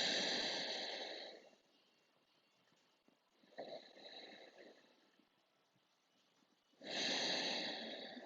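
Deep breathing during a seated yoga twist: slow, quiet inhales and exhales with a breathy, snore-like rasp, each long breath separated by a few seconds of near-silence, close and alone.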